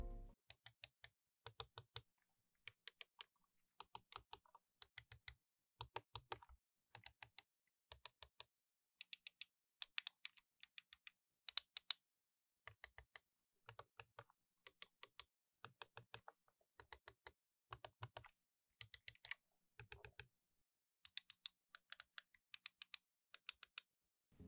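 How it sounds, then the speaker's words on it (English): Glorious Model D and Model O wireless mice, their buttons clicked one after another in quick bursts, the thicker Model D buttons giving a deeper click; close, crisp and steady with short pauses between groups and no talking. "the buttons on the Model D are significantly thicker than the Model O, creating a deeper click sound"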